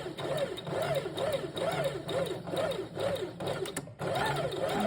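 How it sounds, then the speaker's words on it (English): A sewing machine runs a straight stitch along a French seam: a close, steady whirring with a regular pulse of stitch beats, a brief pause, then a short final burst. "Keep sewing using a straight stitch."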